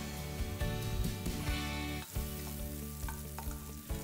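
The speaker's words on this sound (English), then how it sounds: "I stir-fried them with oil." Bite-sized sausage pieces stir-frying in oil, a steady close sizzle with clattering stirs and scrapes throughout, no talking.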